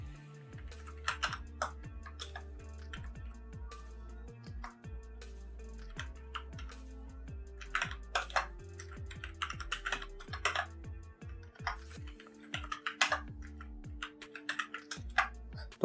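Names being typed on a computer keyboard in a Microsoft Excel spreadsheet, rapid irregular keystroke clicks in bursts with brief pauses, close and clear over a low electronic hum.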